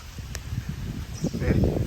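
Strong wind in rain on a road trip in Wayanad buffets close to the mic, a steady low roar with gusty swells, and voices are faintly mixed underneath.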